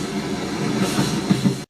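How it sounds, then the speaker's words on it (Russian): Train noise plays back through a Blackview AirBuds 1 earbud microphone as a steady rumbling rail roar at fairly high level, then cuts off abruptly at the end. "Итак, вначале запускаем шум поезда."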